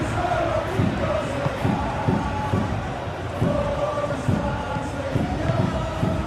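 A stadium crowd in a FIFA football video game roars and cheers in a continuous loud swell, with rhythmic chanting pulses rising and falling throughout.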